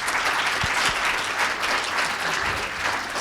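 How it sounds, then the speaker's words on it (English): An audience at a disclosure-code conference session claps for the panel, dense sustained applause filling the room evenly, with a few low thumps beneath and no voices over it. "I'd also like to extend a round of applause to the panel for their excellent work."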